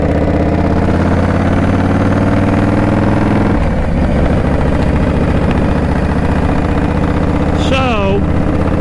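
A Shovelhead motorcycle engine rumbles loudly and steadily while riding on a city road, its deep drone shifting pitch midway, with someone talking over it.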